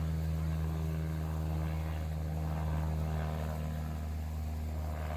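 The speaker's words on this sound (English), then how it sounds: "Oh look, an airplane." A propeller airplane drones steadily at Salinas Municipal Airport in California, a constant low engine hum holding level throughout, moderately distant and with no talk.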